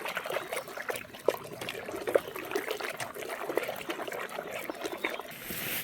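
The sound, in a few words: stirring dye bath water with detergent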